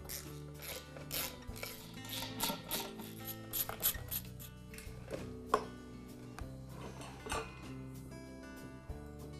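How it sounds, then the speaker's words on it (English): Bolts being removed from the pump-to-tank mount of a Campbell Hausfeld air compressor: quiet metallic ratcheting, scraping and clinking of tools and parts, irregular and close. "Now there's four bolts that connect the pump to the tank. I'll remove those"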